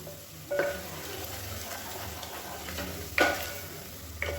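Chili powder frying in oil for kuska, a soft steady sizzle with two or three sharp scraping stirs of a ladle against the pan.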